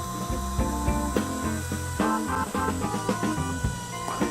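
A router cuts wood for box making, a close, continuous whirring grind with uneven bursts as the bit bites into the piece.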